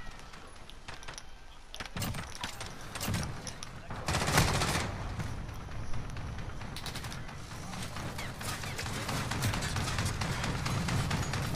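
Pistol gunfire in a first-person shooter game against robot enemies: a busy stretch of repeated shots and bursts mixed with game noise, fairly loud and continuous throughout.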